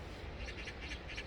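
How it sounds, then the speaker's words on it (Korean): Several magpies chirp behind a pond where ducks swim, a few faint, scattered calls in the background over steady outdoor ambience. "까치가 몇 마리 있는가 봅니다."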